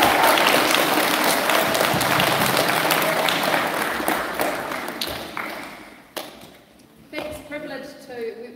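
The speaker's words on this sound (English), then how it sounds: "Awesome, round of applause." A room of people applauding after a senior speech competition finale, dense steady clapping that gradually thins out and fades, followed by a few scattered claps and a voice talking.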